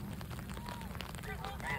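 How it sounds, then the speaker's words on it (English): Several geese call in short, scattered honks at a pond's edge, quiet and a little distant over steady low background noise, growing slightly busier toward the end. "Even more geese."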